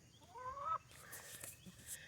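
Farm chickens cluck and squawk while feeding after a rainy morning, a rising call followed by softer scattered clucks, faint and close with no talking.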